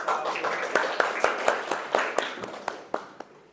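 Classroom of students performing the "Tepuk 5" clapping chant: a run of sharp, distinct hand claps in a patterned rhythm over a murmur of young voices, fairly close and moderately loud.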